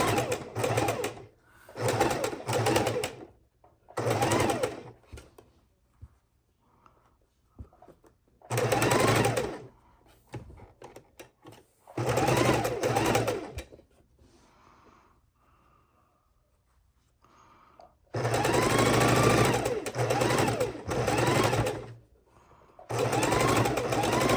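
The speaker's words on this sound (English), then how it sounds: "Be very careful sewing your rows together." A sewing machine stitching rows of a queen-size quilt together runs in loud, rapid bursts of a few seconds each, separated by quiet pauses with faint handling sounds.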